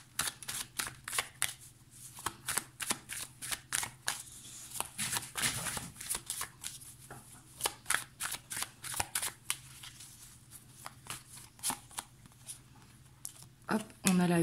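Tarot cards being shuffled by hand for a reading, a long run of quick crisp riffling flicks in uneven bursts close to the microphone, with someone speaking French throughout.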